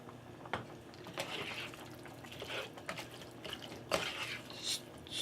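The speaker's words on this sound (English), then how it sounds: "Stir it up." A spoon stirs shepherd's pie filling in a pot, seasoned with Italian seasoning and salt: soft scraping and clinking strokes repeat irregularly, close and fairly quiet, with no talk.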